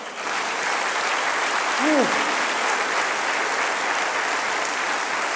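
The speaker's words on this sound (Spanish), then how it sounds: "Denle un aplauso al Señor." A church congregation applauds during a sermon, with dense, steady clapping that fills the whole stretch at an even, fairly loud level.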